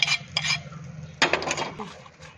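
A spoon scrapes and mixes raw mango pickle with chili, salt and sugar in a dish, making a few sharp close metallic scrapes and clinks in short bursts.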